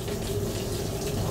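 Hot water runs steadily from a tap into a washing machine being loaded for a wash, a continuous close, even rushing flow with no pauses.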